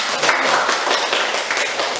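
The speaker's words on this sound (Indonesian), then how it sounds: "tepuk tangan untuk teman kalian" Students clap for classmates after a group presentation in a classroom, a steady dense patter of many hands with no talk over it.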